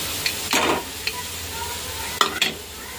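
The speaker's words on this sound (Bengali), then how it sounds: "পনিরটা এখন দিয়ে দেবো।" Grated paneer is tipped into a hot pan and stirred, giving a few quick, close scrapes and clatters over a soft sizzle.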